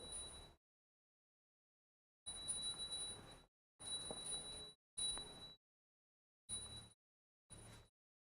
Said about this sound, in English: Please take the bell in your left hand and start ringing the bell.